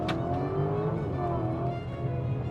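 A deep twin-turbo 4-liter V8 engine of a Lamborghini Urus SE hybrid SUV roars and revs continuously, a loud throaty rumble with rising and falling pitch as it pulls hard in a tunnel, no voices.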